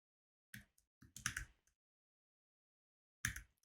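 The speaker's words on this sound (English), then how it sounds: "I can type" Keys on a computer keyboard clatter in a few short bursts while a graph label is entered, then go quiet before a final quick run of keystrokes; close and fairly faint, with no voices.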